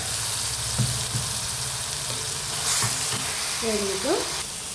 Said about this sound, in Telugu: ఇవి ఫ్రై అయ్యాక ఆల్రెడీ మిక్సీ పట్టుకున్న ఉల్లిపాయ మిశ్రమాన్ని వేసేస్తాం